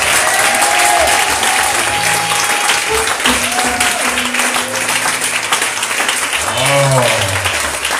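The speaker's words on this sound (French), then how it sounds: "Acclame le Seigneur très fort." Church congregation applauding loudly at a worship service, sustained dense clapping with cheers and shouting voices mixed in, continuous from start to end.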